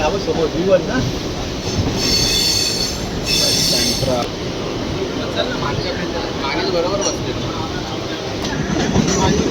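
A train rumbles in close and loud with screeching wheel squeals and clattering at Mumbai Central station, while people talk nearby on a busy platform.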